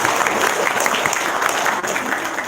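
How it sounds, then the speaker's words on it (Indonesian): Audience applause at a religious talk, a steady burst of clapping from a group that holds evenly throughout, fairly close and alone. "Tepuk tangan dong."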